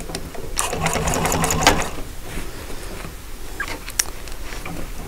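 A Juki walking-foot sewing machine stitching an upholstery cushion runs in a fast rattling burst, then slows to scattered mechanical clicks and taps, close and fairly loud.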